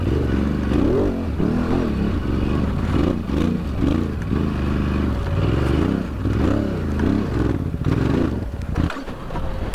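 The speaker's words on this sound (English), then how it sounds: "I'm just gonna have you listen to the bike real quick." Adventure motorcycle engine recorded on a GoPro, a loud rumbling drone pulsing in uneven throttle swells, with wind buffeting and clatter from riding over rough ground.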